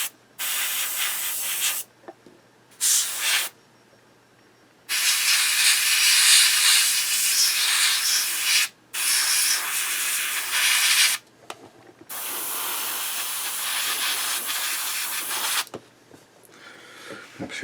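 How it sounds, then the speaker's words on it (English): An airbrush compressor hisses in long and short spray bursts while paint goes onto a 1/35 scale HobbyBoss German WWII Pzkpfw I Ausf C model tank, the loud steady rush cutting off cleanly between passes. "Switch my compressor on"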